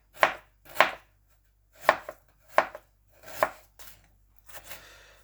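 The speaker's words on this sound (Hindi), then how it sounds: "लहसुन के साथ हम अदरक भी काट लेंगे।" A knife chops ginger on a board for a chicken karahi: six crisp, separate strokes, close and fairly loud, set apart by short silent gaps, with no voice over them.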